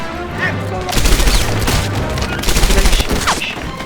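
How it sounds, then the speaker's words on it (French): Rifle gunfire rattles in the video game Medal of Honor Airborne, two bursts of rapid shots over a busy battle-noise backdrop, loud and close. "Non, c'est encore du fusil."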